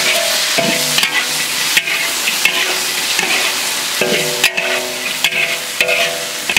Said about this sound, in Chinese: 稍微炒一下，我们把这个鱼加进去